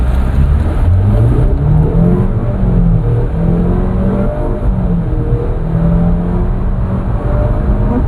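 Turbocharged 2.0 TFSI petrol engine of a 2013 Audi Q5 SUV pulling hard under acceleration, a loud, close, continuous rising drone with engine pitch sweeping up through the gears, no talk.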